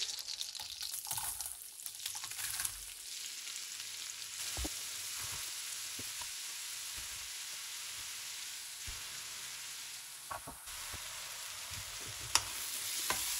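Sliced leeks sizzle gently in melted butter in a pan over low heat, a quiet, steady frying hiss with a few soft clicks and scrapes of stirring, and no voices.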